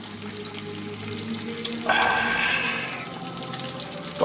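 Eggs frying in a pan for a hangover breakfast, a steady close sizzle that swells suddenly as more fat or egg hits the hot surface, then settles back into a quieter crackle.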